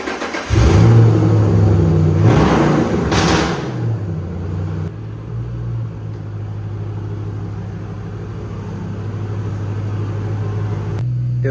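A Ford Mustang built as a Death Race car starts with a loud rev in the first few seconds, then settles into a steady, rumbling idle that runs nearby for the rest of the clip.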